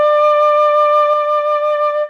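A single sustained instrumental note rings steadily for about two seconds with a gentle wavering vibrato, then fades out.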